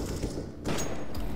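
Video game gunfire bursts in a knife-fight shootout, dense rattling shots running throughout, loud and close, with a sharper, louder burst midway.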